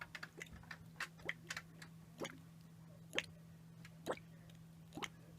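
A carboy of fermenting homebrew oatmeal stout bubbles through its water-filled airlock, giving soft, irregular ticking plops about once a second, faint and close, over a low steady hum.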